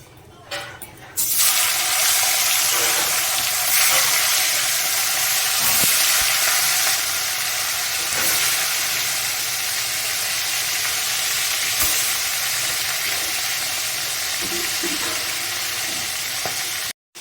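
After a brief clatter, fish hits a hot wok and a loud, steady sizzle fills the rest, crackling and hissing evenly until it cuts off.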